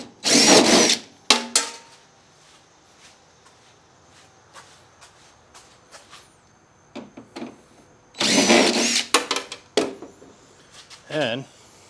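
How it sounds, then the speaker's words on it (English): A John Deere STX38 riding mower's hood is unbolted with a power drill. Two loud, close whirring bursts are separated by scattered clicks and handling noises. "what do you say we unbolt the hood and take a peek inside?"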